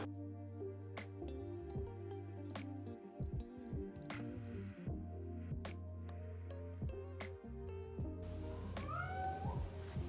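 A clingy cat in a home office meows once, rising and near, late in the stretch over steady background music with soft tapping and brushing sounds.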